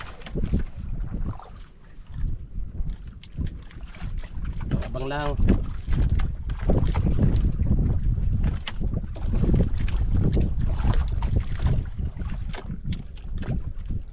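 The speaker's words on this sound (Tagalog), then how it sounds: "Hangin na naman mga idol." Gusty wind buffets the microphone throughout with a loud rumble while fishing for giant grouper, as people talk now and then and a brief whistle-like tone sounds.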